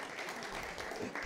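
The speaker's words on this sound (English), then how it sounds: "she should get a round of applause" Brief burst of audience applause at a student award ceremony, a faint, even wash of clapping lasting about a second.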